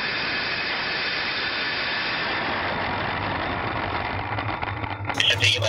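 Engine roar at liftoff of a Blue Origin rocket, a steady broadband rumble heard from a distance on a handheld camera, growing rougher and louder at the end.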